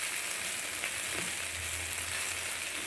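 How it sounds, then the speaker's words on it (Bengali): Masala spice paste fries in a pan for a shrimp curry, giving a continuous bright, close sizzle with a faint low rumble underneath and no talking. "মশলাটা একটু ভালো করে ভেজে নেব যাতে কাঁচা মশলার গন্ধটা চলে যায়"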